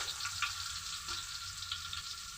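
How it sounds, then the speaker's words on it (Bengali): Bay leaf, onion and garlic paste frying in hot oil for a parboiled-rice biryani, a steady close sizzle with light crackles and faint stirring, no voices. "তেল গরম হয়ে গেছে দিব তেজপাতা কিছুটা পেঁয়াজ কিছু রসুন বাটা"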